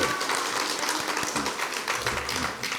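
A church congregation at a joint prayer meeting breaks into loud, dense applause, steady throughout, with a few louder individual claps standing out from the crowd.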